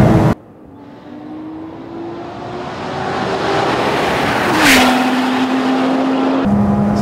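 Lotus Exige S sports car accelerating hard on a race track, engine note rising steadily through the gears, a loud pass near the middle, then an upshift and sustained high-revving drone.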